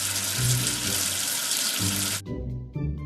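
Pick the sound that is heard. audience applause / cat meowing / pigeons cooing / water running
water running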